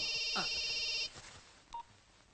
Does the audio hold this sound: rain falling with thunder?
no